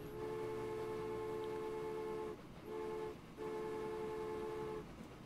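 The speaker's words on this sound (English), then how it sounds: "here comes the first train" Train horn in the game Transport Fever, a steady harmonic tone sounding in three long blasts with short gaps, moderately loud over a low rumble.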